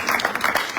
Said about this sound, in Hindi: जोरदार तालियां चाहिए।